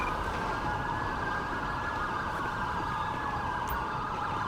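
Ambulance siren in the GTA V LSPDFR police game, a loud continuous wailing tone that holds steady throughout.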